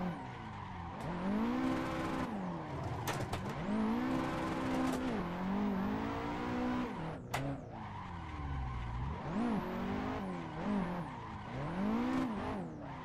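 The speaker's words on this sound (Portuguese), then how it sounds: "Tô usando muito freio de mão nessa pista, porque ela é muito fechada" A Nissan Skyline styled after the Fast and Furious car drifts around a tight track in the Assetto Corsa racing game, its engine revving and wailing continuously while the tires squeal under handbrake slides, loud and with no talking.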